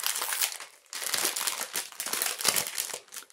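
Plastic packaging of a cross-stitch embroidery kit crinkles and crumples up close in irregular loud bursts with brief pauses, no voices.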